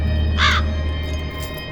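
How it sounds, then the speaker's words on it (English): A single raven caw, a short harsh call with stacked overtones, sounds once over a steady low ambient hum in the dark adventure game The Black Mirror 2. "This thieving magpie in a raven suit has something I need."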